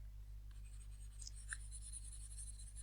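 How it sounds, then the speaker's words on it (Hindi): A pen or marker scratches across paper or a board in short, quick strokes, faint and close, with a low steady hum underneath and no talking. "मैं आपको साफ साफ लिख देती हूँ"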